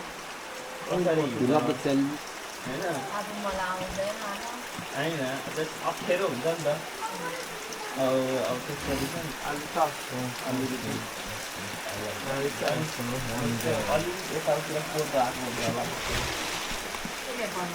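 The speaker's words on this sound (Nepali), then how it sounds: "ठुलो पानी पर्छ है पानी" Heavy rain pours steadily in a rural Nepali village, a constant hiss of water running beneath people talking nearby throughout.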